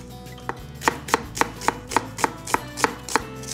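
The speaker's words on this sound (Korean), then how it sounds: "이때 양파는 아주 얇게 슬라이스해서 준비해 주시고요" A knife chops onion and carrot into thin strips on a cutting board, with about ten crisp, evenly spaced cuts in a steady rhythm, close and alone.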